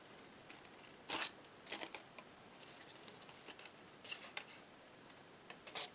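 Scissors snip through a folded paper card for a DIY easel, several crisp, close cuts in short bursts with pauses between them, over a quiet background.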